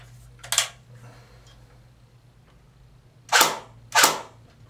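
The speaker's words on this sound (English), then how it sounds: "Know how you kids love the blowback action." A CYMA CM050 airsoft AK fires with blowback action, giving three sharp mechanical clacks: one early and two close together near the end, separated by quiet room hum.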